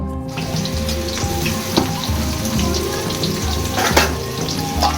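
Chopped onions drop into hot oil in a pan for a coriander chicken dish, a close, steady sizzle and crackle with a few sharper pops and spatters.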